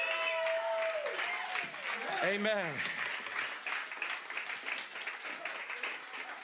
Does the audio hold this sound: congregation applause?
yes